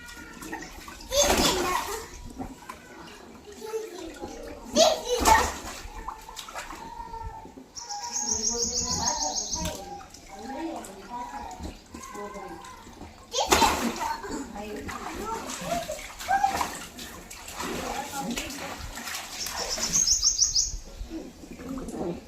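A small child splashes water while bathing, intermittent splashes and pouring sounds under frequent talk from an adult and the child, with birds chirping nearby.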